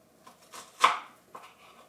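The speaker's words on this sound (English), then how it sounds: "I just want to take these, like I say, this onion, and give it a nice chop" A sharp knife chopping half a white onion on a board, a few quick close cuts with one louder knock in the middle, alone without talk.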